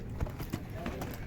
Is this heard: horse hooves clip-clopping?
yes